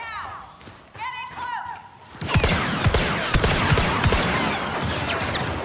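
Blaster fire and explosions crackle in the Star Wars Battlefront II video game, with rapid bursts of shots and impacts; voices call out over the first part before the firefight grows loud and dense.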